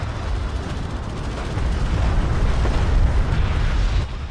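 Production cruiser blowing apart under a missile barrage in a space strategy game: a dense, sustained roar of explosions, loud and continuous, swelling midway and dropping off near the end, with no talking.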